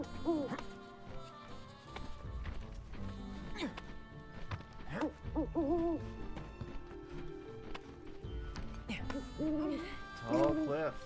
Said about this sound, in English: Why does that sound like an owl?